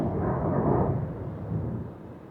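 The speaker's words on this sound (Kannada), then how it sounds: "ಸುರಂಗ ಮಾಡ್ತಿದ್ದಾರಲ್ಲೊಂದು, ಅದಕ್ಕೆ ಬ್ಲಾಸ್ಟ್ ಮಾಡ್ತಿದ್ದಾರೆ." Blasting for tunnel construction below the Gata Loops mountain road sends up a muffled, distant rumble that swells and slowly fades, heard alone without talk.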